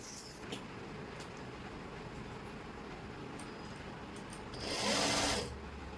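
Domestic sewing machine stitching a kurti sleeve, a steady mechanical whirr running throughout, close and moderately loud, swelling into a brighter, faster burst near the end.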